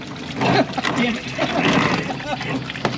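Coolant splashes and trickles steadily out of a Nissan 240SX radiator, pouring in a continuous stream, with a person talking over it.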